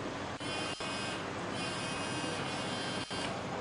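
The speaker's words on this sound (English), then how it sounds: "each member, to press their buzzer just for about 2 seconds" A quiz competition buzzer in a local government schools challenge, pressed and held as one loud, continuous electric buzz for several seconds with a few tiny dropouts.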